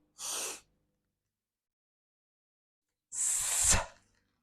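A sharp breath is drawn in before a kettlebell swing: first a short intake, then after a pause a longer, louder, forceful gasp-like breath. Both are close and alone, with no talk.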